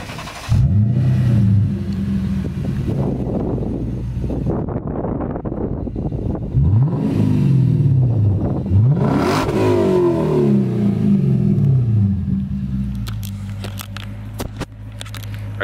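A supercharged 800-horsepower Dodge Viper engine at a track day fires up with a loud bark, then revs repeatedly in rising and falling sweeps, close and powerful, with wind buffeting the microphone.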